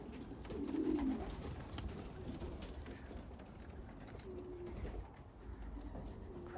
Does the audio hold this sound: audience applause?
no